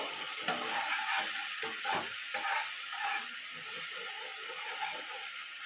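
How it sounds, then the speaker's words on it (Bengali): Ground cumin and coriander paste with ginger fries in hot oil for a fish-head mung dal, a steady close sizzle and hiss with a few soft stirring scrapes, no voices. "জিরে ধনে বাটা আমি এগুলো সব একসঙ্গে করে নিয়ে মশলাটা দিয়ে দিলাম এটাকে দিয়ে একটু ফ্রাই করবো"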